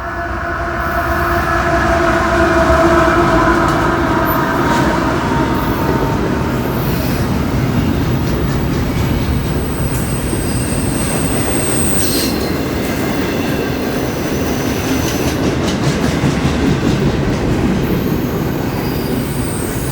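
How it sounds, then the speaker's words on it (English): A CSX freight train of 76 axles with a single auto rack on the rear rushes past at speed, giving a loud continuous rumble of wheels and cars with squealing wheels and a faint horn early on. "This train went through LaGrange about 2 hours and 20 minutes ago."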